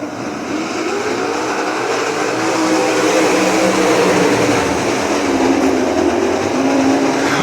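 Sprint cars at Ohsweken Speedway roar through the restart zone, a dense, loud, continuous engine drone that swells slightly as they accelerate past, with no voices heard.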